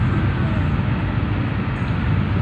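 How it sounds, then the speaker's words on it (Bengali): A passenger train crawling slowly over a bridge during rain: a dense, steady low rumble and rattle of wheels and carriages, loud and continuous from inside the train. "ট্রেনও বাক্কা স্লো হয়ে গেছে, কারণ ব্রিজের উপরে দিয়ে যাওয়ার দেখিয়া।"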